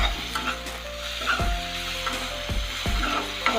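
Pieces of eel fry in hot spiced oil in a pan with a continuous close sizzle, broken by several sharp scrapes and knocks of a stirring utensil against the pan.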